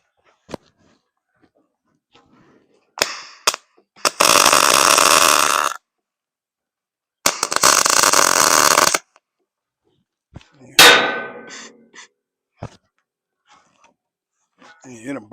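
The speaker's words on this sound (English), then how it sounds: "I could tell the way it's welding, it just don't sound right. Gas ain't getting to it right." A MIG welder with its shielding gas not flowing properly crackles and hisses in two sustained bursts of a few seconds each, separated by short clicks and taps, with brief speech near the end.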